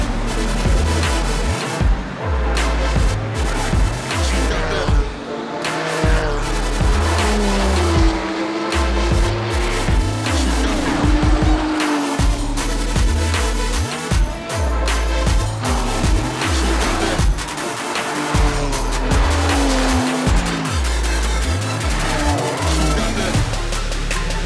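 Race cars roaring away at the start of the 24 Hours Nürburgring, with a steady, loud wall of engines, shifting revs and passing cars sweeping by close throughout.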